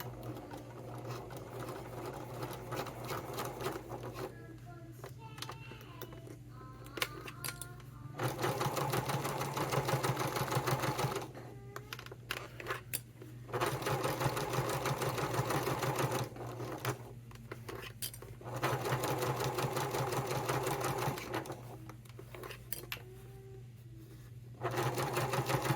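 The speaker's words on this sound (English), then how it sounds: "I'm going to edge stitch right here on the binding." A sewing machine runs in several bursts of steady, rapid stitching as it edge stitches along the binding of a fabric wallet, with short pauses between runs and a constant low hum underneath.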